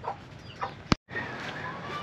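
A chicken gives a few soft clucks over a faint outdoor background, with a sharp knock partway through before a brief gap.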